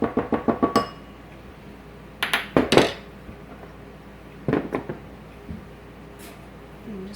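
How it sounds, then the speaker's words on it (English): A whisk clattering against a pot while mixing liquid thickened with cornstarch, in quick bursts of rapid metallic clinks separated by pauses, close and fairly loud. "I'm just going to take this whisk and get that mixed real well"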